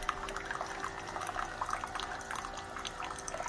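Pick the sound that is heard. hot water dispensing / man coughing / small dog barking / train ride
hot water dispensing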